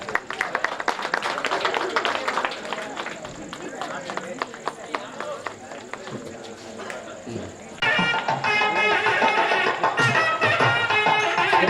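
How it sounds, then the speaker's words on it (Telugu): Audience claps at a Telugu drama competition award ceremony, starting as scattered, uneven hand claps under an announcer's voice, then swelling into denser, louder applause with music in the last few seconds. "క్లాప్స్ కొట్టండి, క్లాప్స్."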